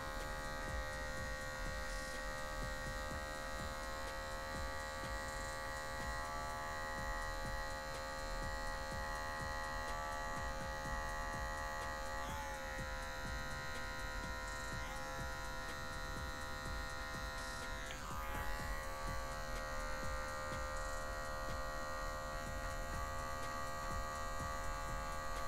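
Electric hair clipper buzzing steadily and close, cutting a low fade into dry, stretched afro hair, a continuous whine with slight shifts in pitch as the blades move across the head.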